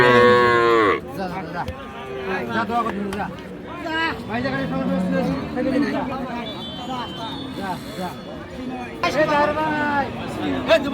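Cows moo loudly at Ambari cattle market in Dinajpur, where Friesian dairy cows with calves are sold; a long low call opens, further moos recur amid steady crowd chatter and nearby talking throughout.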